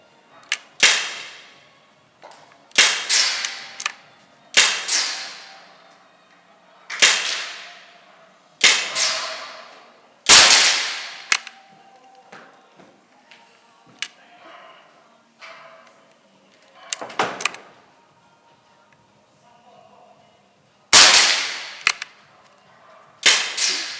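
Air rifle fired at targets while zeroing a Nikko Stirling Hornet 10-50x60 scope, sharp close cracks with short decaying tails, spaced irregularly over the clip with some faint quieter clicks and handling noises between shots.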